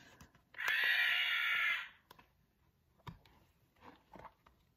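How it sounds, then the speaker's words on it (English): Pterodactyl screech sound effect from a dinosaur sound book, a single loud, harsh, high-pitched shriek lasting about a second, followed by quiet faint taps and rustles. "Can you screech like a pterodactyl? Touch her wing to hear her screech."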